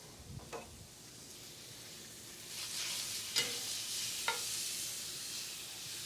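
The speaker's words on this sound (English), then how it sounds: "Listen to that sizzle." Quiet, steady hiss of bacon frying in a hot cast iron pan, with a few brief sharper pops and crackles rising above the sizzle.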